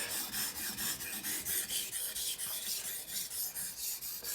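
A kitchen knife is drawn across a wet whetstone in a steady, even rhythm of about a dozen raspy back-and-forth strokes, soft and close with no voices.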